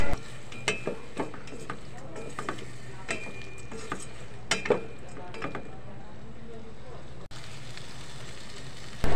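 Shrimp and white oyster mushrooms sizzle in garlic butter in a pan, with steady frying hiss and a few close clinks and scrapes of stirring.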